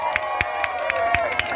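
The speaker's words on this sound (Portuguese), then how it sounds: "cadê as palmas do John?" Carnival crowd at a Bloco das Virgens parade in Conceição, Paraíba, cheering and clapping for a parader on the runway: steady loud crowd noise with sharp rhythmic claps roughly every quarter second, whistle-like tones riding over the din.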